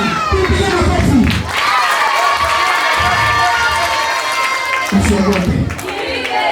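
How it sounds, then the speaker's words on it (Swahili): An audience claps and cheers for a child performer at a church gathering, loud crowd noise with excited shouting and some voices over the clapping. "Tupige makofi"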